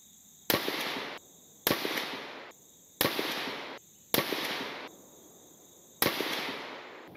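Five rifle shots from a bipod-supported rifle firing Stand One Armory match ammunition at 100 yards, each a sharp loud crack with a short decaying tail, spaced roughly a second or more apart, with no talk.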